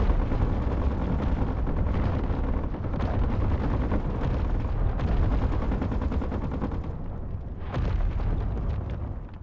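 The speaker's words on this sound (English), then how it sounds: "Hey, turrets did their job." Defense turrets in Space Engineers fire continuously, a loud, dense roar of rapid gunfire and booming impacts with brief surges and no pause.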